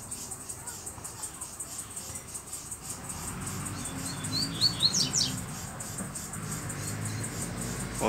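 A double-collared seedeater (coleiro) sings loose outdoors, its bright chirping phrases rising clearly around the middle over a steady background hiss, with quieter calls scattered before and after.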